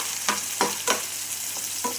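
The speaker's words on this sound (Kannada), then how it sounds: "ಈಗ ಇದರಲ್ಲಿ ಒಂದು ಈರುಳ್ಳಿನ ಫ್ರೈ ಮಾಡ್ಕೊತಿದ್ದೀನಿ." Onion frying in a pan, a steady soft sizzle with a handful of spoon strokes scraping through it at irregular intervals.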